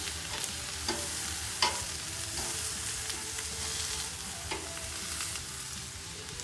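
Crawfish-stuffed catfish fries on a 22-inch Blackstone griddle with a steady, close sizzle of oil, marked by a few light pops and crackles, with no talking.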